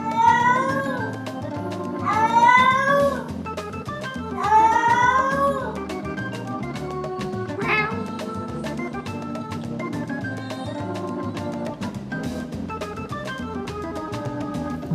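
Three cats meow and caterwaul back and forth in a squabble, with several long rising yowls early on followed by shorter, scattered cries over close, continuous background noise.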